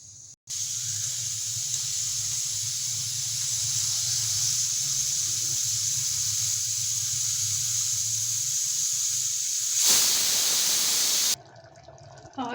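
A pressure cooker on a low flame letting out a long, steady, shrill whistle of escaping steam with a low rumble beneath, swelling into a brief louder gush near the end before cutting off.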